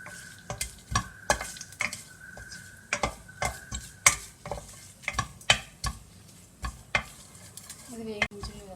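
Red and green chillies frying in a pan of tempering for gongura dal, a soft steady sizzle with frequent sharp taps and scrapes of a spoon stirring against the pan, close and fairly quiet.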